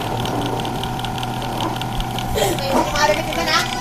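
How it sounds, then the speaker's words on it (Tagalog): A broken electric fan whose motor stator windings have a break hums steadily without spinning, a low continuous drone that carries through the whole moment while children talk and play nearby. "Ugong lang pero walang ikot. Ayan, umuugong."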